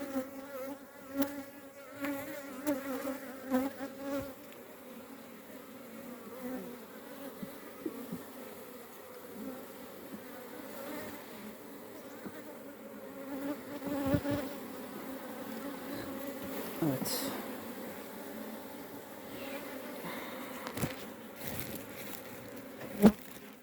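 Honeybees buzz continuously around an open beehive during pollen season, a layered steady drone with occasional louder passes of individual bees close by, and no speech.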